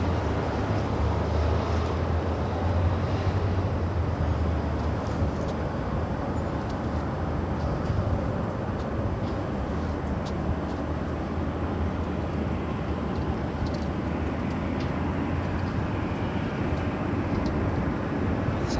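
Spirit Airlines Airbus A320neo arriving at LAX, a steady, loud broadband jet roar with deep engine rumble that holds evenly throughout, without any talking.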